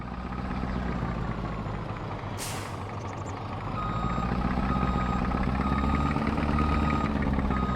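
A truck with a trailer reversing in Farming Simulator 22, its steady diesel idle droning close by while evenly spaced reverse warning beeps repeat, with a brief hiss of air brakes partway through.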